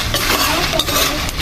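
Sun-dried curry leaves being roasted and stirred in a pan, with close scraping and light clinking of a utensil against the pan and a soft sizzle, brief and continuous.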